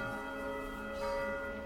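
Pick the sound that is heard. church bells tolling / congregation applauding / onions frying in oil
church bells tolling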